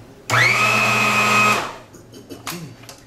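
A food processor pureeing raw chicken whirs loudly for about a second, its motor droning steadily, then stops, followed by faint clinks and rustling.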